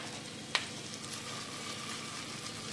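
Onions and a spoonful of sugar sizzle steadily in a hot pan for boeuf bourguignon, a soft, even frying hiss with one brief clink near the start and no voices.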